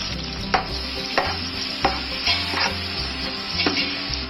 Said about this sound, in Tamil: எல்லாம் நல்லா வதங்கினதும் நம்ம இதில் வெங்காயத்தை போட்டுடலாம்.